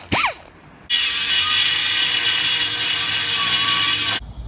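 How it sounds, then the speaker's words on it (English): A die grinder cuts away a welded nut on the back of a truck frame, a loud steady high-pitched grinding hiss held for about three seconds after a brief tool spin-up. "With our die grinder, we're gonna go ahead and remove that welded nut on the back of the frame."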